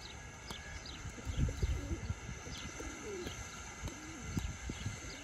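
Pigeons coo softly and repeatedly, close by in a loft, with occasional chirps and fluttering, amid a steady indoor background hum.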